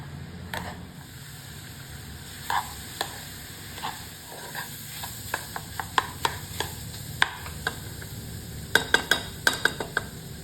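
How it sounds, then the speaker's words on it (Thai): Pineapple pie filling is stir-fried in a pan over medium-low heat until it dries out: a low, steady sizzle under a series of sharp utensil clicks and scrapes against the pan, becoming more frequent toward the end, with no speech. "ใช้ไฟกลางขั้นอ่อนนะคะ ในการ ผัดไส้ไปเรื่อยๆ จนกว่าเขาจะมีความแห้งเลยนะคะ"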